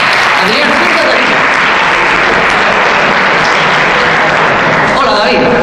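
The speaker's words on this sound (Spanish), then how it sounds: "Le damos un fuerte aplauso a David" A live audience gives David a loud round of applause, dense sustained clapping filling the whole stretch with a murmur of voices mixed in.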